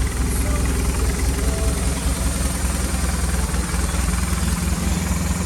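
A 2009 BMW R1200RT motorcycle engine idles steadily after a clutch replacement, a continuous low, throbbing drone with an even pulse that holds loud and close throughout, with no talk over it.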